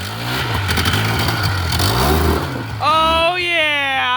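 A Polaris 4x4 utility vehicle with a suspect transmission and a carburetor that may need cleaning revs in high gear, its mid-pitched engine rising steadily near the end after a stretch of rumbling under talk.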